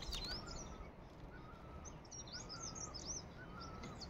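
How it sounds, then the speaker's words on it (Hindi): Small birds chirp and tweet faintly at a distance in a hillside field in the Uttarakhand hills, scattered high calls over a soft steady background hiss. "बैकग्राउंड में चिड़िया की चहचहाने की आवाज़ आ रही है ना"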